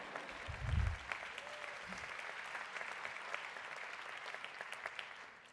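Audience applause rings out at a 2022 graduate hooding ceremony for Emerson's School of Communication: a steady, fairly faint patter of many hands clapping in a large hall, with a couple of low thumps near the start.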